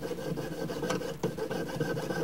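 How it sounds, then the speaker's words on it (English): A jeweler's saw with a little lubrication cuts the bail off a reticulated silver pendant, making a steady, close rasping stroke sound that continues without pause, with no talking. "I'm going to use it as a jeweler saw with a little lubrication on there."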